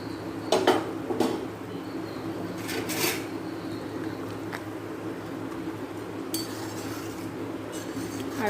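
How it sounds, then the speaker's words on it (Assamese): Pieces of fried fish go into a simmering Assamese fish curry with manimuni herb, bringing a few clinks and knocks of utensil against pot over a low steady background hum. "ইয়াতে এয়া ভাজি থোৱা মাছখিনি পেলাই দিম।"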